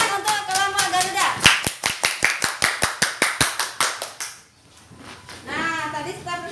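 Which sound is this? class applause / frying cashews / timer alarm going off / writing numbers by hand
class applause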